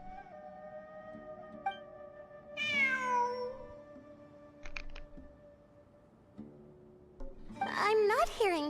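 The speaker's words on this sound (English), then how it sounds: "It really is a cat." A cat in the video game Genshin Impact lets out a couple of clear, rising meows, one near the middle and one at the end, amid quiet game music and a person talking.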